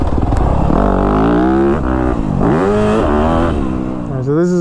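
A Honda CR125 motocross bike rips around a dirt track, its two-stroke engine revving loud and close with rising and falling pitch as the rider works through the gears, with voices talking over it.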